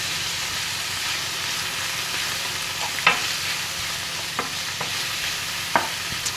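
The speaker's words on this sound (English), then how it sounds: "we're going to add our shiitake mushrooms in with the pork and cook those off together" Pork and shiitake mushrooms sizzling steadily in a hot pan for spring roll filling, with a few sharp scrapes and clacks of a utensil stirring through the fry.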